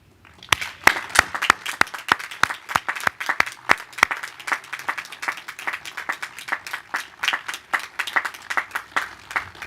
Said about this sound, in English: let's applaud those people who helped you